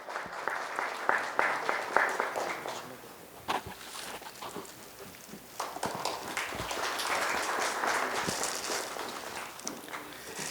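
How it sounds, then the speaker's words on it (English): Audience applause at a banking conference fireside chat, a broad wash of clapping that swells and fades across the room, mixed with scattered footsteps and movement, with no talking over it. "A round of applause."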